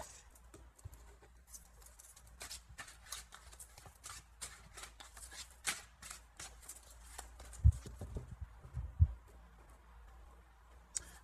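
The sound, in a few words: shuffling a deck of tarot cards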